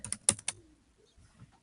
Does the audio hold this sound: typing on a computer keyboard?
yes